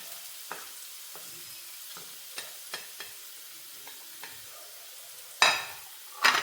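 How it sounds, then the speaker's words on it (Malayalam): Chopped onion hits hot coconut oil with soft, scattered sizzles and faint stirring clicks, then two louder bursts of frying near the end; no one speaks. "ഈ സബോള ഞാൻ ഇതിലേക്ക് ഇട്ട് കൊടുക്കുവാണ്."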